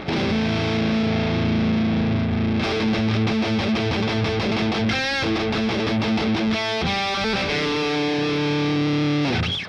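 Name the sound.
Telecaster electric guitar through bridge pickup with distortion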